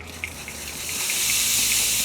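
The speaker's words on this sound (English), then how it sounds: "We're spritzing with just straight water only." Plain water is spritzed from a spray bottle onto a brisket hanging in a bullet smoker, a close series of quick, regular hissing sprays over a rising wash of steady sizzle, with no talking.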